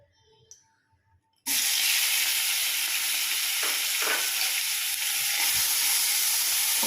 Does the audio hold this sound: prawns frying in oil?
yes